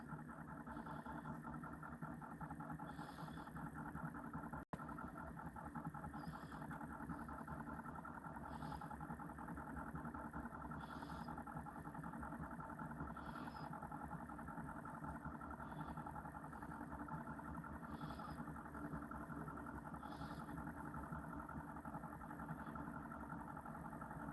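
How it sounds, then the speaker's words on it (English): A clean, newer diesel engine idles steadily with a low, even rumble and a faint regular ticking. It is quiet and unchanging throughout, apart from one sharp click partway in. "That's more like a diesel engine to me. At least a clean, new one."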